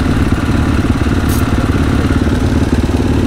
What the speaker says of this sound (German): ich mache meinen Motor erstmal aus